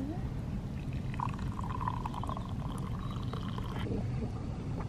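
Hot water is poured from a kettle, heard as a steady liquid stream across several seconds over a constant low background rumble, with a brief trickle toward the end.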